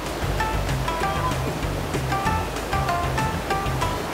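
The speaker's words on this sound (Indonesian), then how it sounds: "Aliran sungai yang mengalir dari sumber mata air Sungai Kambas ini tak pernah kering sepanjang tahun." Clear spring-fed river water of the Kambas River rushes steadily over its bed, a continuous close wash of flowing water, with faint high bird chirps repeating above the stream.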